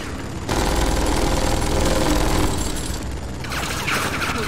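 Sustained rapid gunfire in the video game Tales from the Borderlands: a loud, dense automatic burst rattles on for several seconds, dips briefly, then resumes with sharper crackling.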